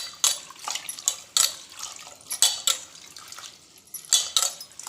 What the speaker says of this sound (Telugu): ఇది వచ్చేసి వాటర్లో కొంచెం ఉప్పు వేసి వాటర్లో ఇలా కడుగుతానండి.